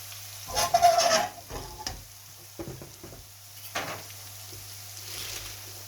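Spinach tipped into a pan of onion frying over a gas flame sizzles steadily while a spoon stirs and scrapes through it in bursts, close and moderately loud, with no talking.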